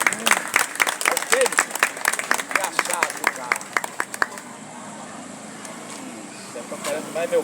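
A crowd at an outdoor religious oratory class bursts into quick, dense clapping for Jesus. It is loud and close, then thins out after a few seconds into quieter open-air background.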